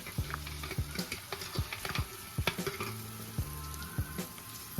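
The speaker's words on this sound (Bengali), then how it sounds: "এবার খুন্তির সাহায্যে এটাকে খুব ভালো করে মিশিয়ে নিতে হবে।" Paneer curry with yogurt is stirred with a spatula in a pan over low heat, giving a soft sizzle with rhythmic scraping strokes, close and steady, under faint background music.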